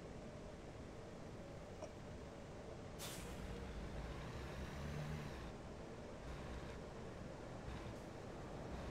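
An American Truck Simulator rig's parking brake lets out a sharp, loud hiss of released air that cuts through a steady low engine rumble, then fades back into the idling drone.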